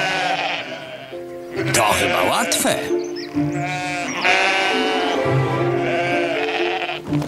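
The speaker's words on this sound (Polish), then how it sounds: "Więc mam przeprowadzić te owce na tamto pole." Sheep bleat loudly and repeatedly in a cartoon field scene, overlapping wavering cries filling the moment while someone speaks over them.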